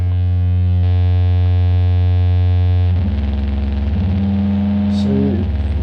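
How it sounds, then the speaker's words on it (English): A Serge Resonant Equalizer pushed into feedback gives a loud, buzzing harmonic drone with gritty nonlinear distortion, its pitch and texture shifting abruptly partway through and then warbling toward the end. "So you can hear that, those interesting non-linearities and the distortion."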